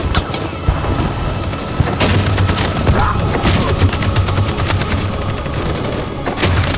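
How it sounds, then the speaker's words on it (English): Sustained machine gun fire in Detroit: Become Human, dense rapid bursts rattling on almost without pause and loud throughout, with faint speech in places. "That machine gun is taking down everything that moves."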